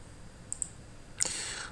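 Computer mouse clicks sound while right-clicking in Visual Studio: two light, quiet clicks close together, then a sharper click followed by a faint rustle, with no speech.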